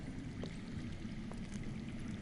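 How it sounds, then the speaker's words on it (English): Water flowing underground in a dark cave area in a Game of Thrones video game gives a steady, faint, low rushing wash with a few soft trickling drips over it, with no voices. "I hear water. From underground."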